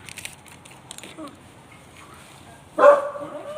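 A dog barks indoors, one loud, close bark near the end after quieter scattered sounds and faint voices in the background.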